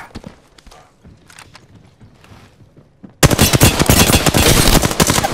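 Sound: gunfire in the video game Apex Legends

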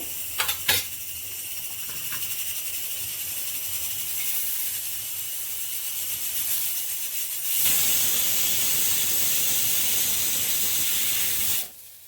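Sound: pressure cooker whistle releasing steam

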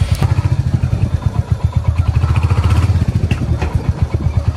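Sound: Royal Enfield Hunter 350 motorcycle front end noise while riding

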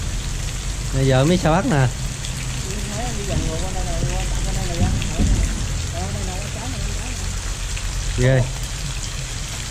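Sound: rain falling while river fishing

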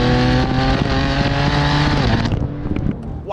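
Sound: turbo whoosh and blow-off valve

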